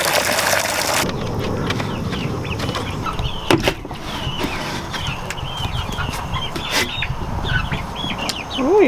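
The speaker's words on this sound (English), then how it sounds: "These chicks are sure starting to get pretty adventurous." Chicks and chickens on a farm chirp and cluck repeatedly, close and far, over a constant background hum.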